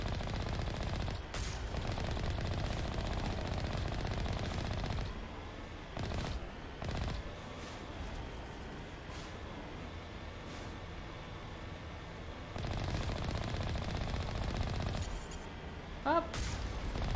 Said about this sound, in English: Ooh, is that a gun? Yep, it's firing at me.